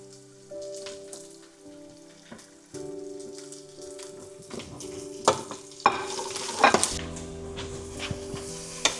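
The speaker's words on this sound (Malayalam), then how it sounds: "ഉള്ളി നല്ലോണം വഴണ്ട് വരണം" Onions soften in a pan for a Kerala-style Malabar chicken curry, with a steady low sizzle under a background hum and stirring scrapes that build into louder clatters toward the end.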